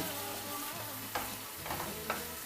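Isot pepper and tomatoes sizzle steadily in a pan as they are stirred, with a few soft scraping knocks of the spoon over the constant quiet frying hiss.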